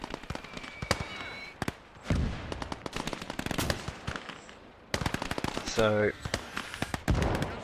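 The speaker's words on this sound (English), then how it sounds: "it's currently a mortar doing some awesome work over here for Proxy" Mortar rounds fire and blast in the Gates of Hell Ostfront war game, heard among a rapid, dense crackle of gunfire and sharp booms with a whistling shell. A voice briefly speaks over the battle.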